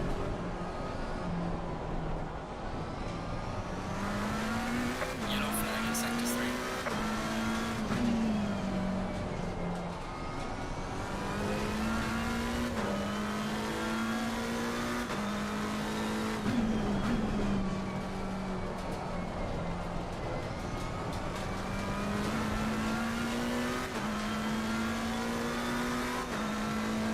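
GT race car engines in the video game Assetto Corsa Competizione on Xbox drone continuously, rising and falling steadily through gear changes for the whole stretch, loud and without speech.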